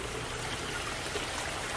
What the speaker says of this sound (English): Got our filter system running here.